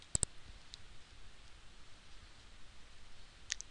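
Computer mouse clicks on a search screen: a quick double click at the start, one faint click soon after, then another pair of clicks near the end, all close and crisp over near silence.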